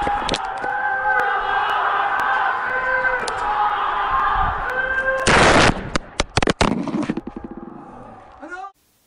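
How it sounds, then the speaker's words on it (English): Rifle gunfire from footage of street unrest in the Arab world plays back over a steady, humming background, breaking into a loud volley of rapid, dense shots near the end before cutting off. "the other is shooting with a rifle"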